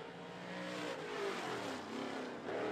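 A limited late model race car laps 411 Motor Speedway, its engine a steady, fairly distant roar that swells slightly as it passes, continuous over the short stretch.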